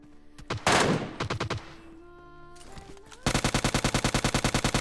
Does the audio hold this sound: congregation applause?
no